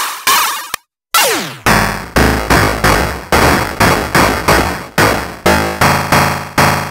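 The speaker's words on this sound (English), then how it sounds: "Lower settings will repeat less often with the sample rate, which creates metallic sounding timbres or video game-like sounds when the pitch is set low" ModBap Trinity drum module playing a kick with metallic, video-game-like timbres: a rapid run of punchy, decaying hits with a short pitch-sweeping burst near the start and a brief gap, loud and close.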